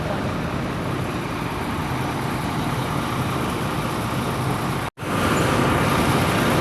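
Continuous dense roar of vehicles driving onto a river ferry on the Laos–Thailand crossing. Engine and road noise stay steady, drop out abruptly for a moment, then return slightly louder.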